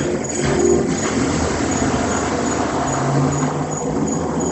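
Racing cars in the F1 Manager video game, a steady engine roar with broadband road noise that holds at an even loudness throughout, no voices.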